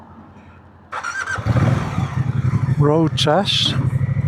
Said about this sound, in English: this morning we're sat on top of the Moto Guzzi Stelvio bike